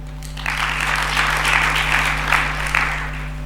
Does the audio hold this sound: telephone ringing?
no